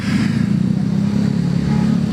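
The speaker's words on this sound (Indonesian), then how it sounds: "Mobil sound telah datang." A sound-system truck arriving at a street rally in Medan, its engine giving a steady, loud, low rumble that stays constant and close throughout.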